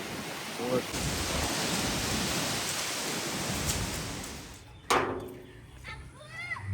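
Heavy rain and gusting storm wind in a village before a thunderstorm, a dense continuous roar with brief sharp knocks, and a voice calling out near the end.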